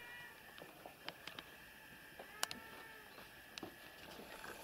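A household cat among several gives soft, scattered meows, a few brief calls spaced across a quiet indoor space with no voices.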